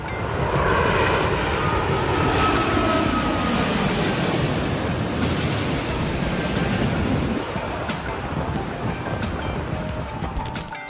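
A fixed-wing airplane's engines roar in flight, a loud, steady broadband drone that eases slightly toward the end, with no voices over it.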